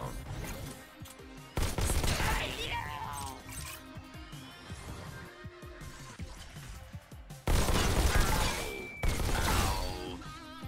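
Gunfire in the virtual reality shooter Robo Recall: repeated bursts of shots and crashing impacts mixed with game music and effects, loudest in two stretches, with a voice speaking over the action.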